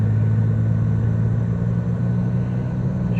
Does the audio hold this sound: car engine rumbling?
yes